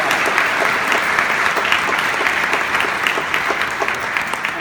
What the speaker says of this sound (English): we need a round of applause to all of our students who helped organize and introduce us to students